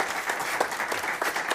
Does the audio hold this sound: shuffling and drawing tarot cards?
no